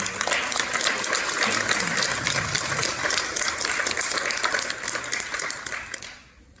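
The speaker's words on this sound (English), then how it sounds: "Let's give a round of applause for" Audience applause for a panelist at a civil liberties conference: a continuous wash of clapping, moderately faint and steady, that tapers off and stops near the end.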